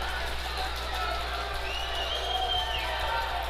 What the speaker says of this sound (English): Crowd is electric right now.